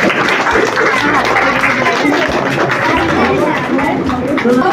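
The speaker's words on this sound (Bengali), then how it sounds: "সবাই মিলে আমার তার জন্য একটা হাততালি হয়ে যায়।" A crowd at a children's art exhibition in Sodepur applauds a school headmistress, with steady clapping blended with murmuring chatter throughout.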